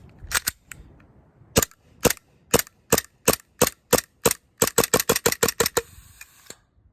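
An AW Custom VX7 gas airsoft pistol fires a long string of sharp, loud cracks, first spaced and then in quick succession, ending with a short hissing spurt of leftover gas.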